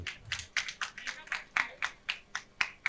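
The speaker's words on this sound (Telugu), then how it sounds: "ఒకసారి గట్టిగా అందరు క్లాప్స్ కొట్టండి" An audience at a meditation centre's anniversary gathering claps hands in a steady, quick rhythmic beat, a dozen or so sharp claps at moderate distance, fairly soft overall.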